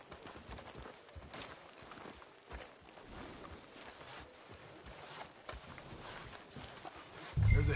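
Horse hooves clip-clopping at a steady walking pace in the video game Red Dead Redemption 2, close and continuous over ambient street noise, with a heavier thud at the very end.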